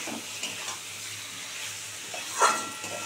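Vegetarian curry with paneer being sautéed in a pan, a soft steady sizzle with faint scraping stirs and one brief louder clink near the end.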